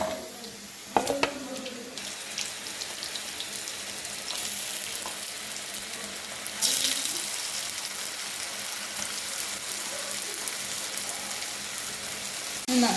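A new batch of chicken snack fries in hot oil with a dense, continuous crackling sizzle that holds steady, opening with a brief clatter as the pieces go in.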